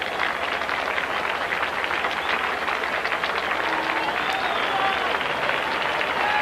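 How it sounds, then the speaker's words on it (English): A baseball stadium crowd at an Oakland A's game applauds steadily as a pitcher nears the end of his outing, giving a loud, continuous wash of clapping and cheering that never lets up. "The crowd, sensing the end, want to give him the same send-off tonight they gave Van Poppel last night."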